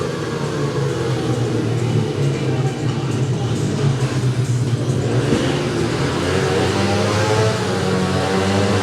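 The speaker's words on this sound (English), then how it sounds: "So the engine noise comes up, green lights on, tapes are released, and away they go" Loud, steady roar of several speedway motorcycle engines revving together at the start line of a race heat, a continuous buzzing drone that swells slightly toward the end.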